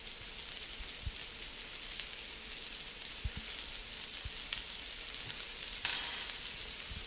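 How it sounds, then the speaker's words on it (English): Minced garlic and rosemary sizzle in pancetta drippings with a steady, crackling fry, dotted with soft pops and a brief scrape near the end, with no voices. "I'm going to add the minced garlic and 2 teaspoons of this rosemary that I chopped up."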